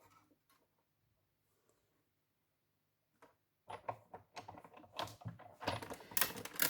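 Cutting a thick adhesive sheet for a card case, quiet at first, then a run of close, irregular snips and crunching cuts that grow louder toward the end.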